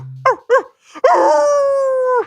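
A person imitates a dog, a few short yelping barks followed by a long drawn-out howl, loud and close in a quiet room.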